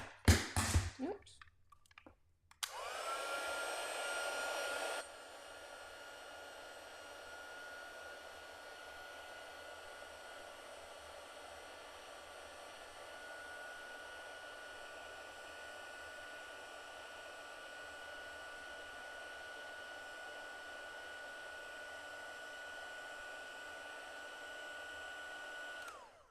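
A heat embossing tool melting embossing powder on a festive Christmas paper tag, giving a loud, steady hot-air blower roar that runs for over twenty seconds after a brief start, with no talking over it.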